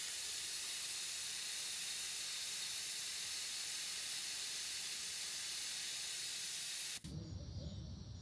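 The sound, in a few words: tire deflator releasing air hiss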